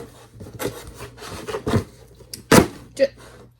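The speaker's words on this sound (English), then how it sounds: "I'm trying to remember to stop talking when I'm taping things." Short rasping tears and rubbing scrapes of packing tape on cardboard come in several bursts, with one sharp loud rip near the end.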